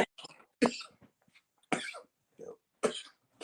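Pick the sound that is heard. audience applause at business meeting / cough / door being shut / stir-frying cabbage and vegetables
cough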